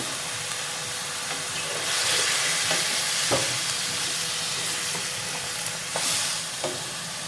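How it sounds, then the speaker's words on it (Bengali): Onions fry in a pan with a constant close sizzle, joined by periodic scraping stirs and soft knocks of a spoon, swelling a little midway, with no voices. "ভালো করে এগুলো ভাজতে হবে। যতক্ষণ না পর্যন্ত পেঁয়াজগুলো গলে যাচ্ছে।"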